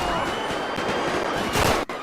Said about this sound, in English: That looks like that was gunshots then.